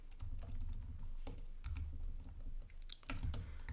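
Fingers tap out coordinates on a computer keyboard for a MATLAB program, with quick, uneven clicks over a low background hum.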